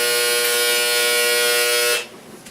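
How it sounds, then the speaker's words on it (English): A clothes dryer's end-of-cycle buzzer sounds as one loud, steady, harsh electronic tone for about two seconds, then cuts off, leaving a quiet room. "Sorry about that, that was the dryer."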